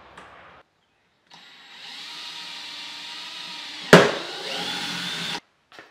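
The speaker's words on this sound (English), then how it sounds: "we're going to put the last screw in" A power drill drives a screw into a kayak backing plate during an anchor trolley install, a steady whirring run of a few seconds broken by a sharp clack, then a short burst and abrupt stop, close and loud.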